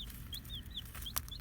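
Chicks peep in a farm brooder, short rising chirps repeating every few tenths of a second, soft and fairly close, over a steady low background rumble.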